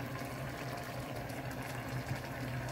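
A pot of banana blossom in coconut milk bubbles at a steady rolling boil on the stove close by, a continuous dense simmering hiss without any voices.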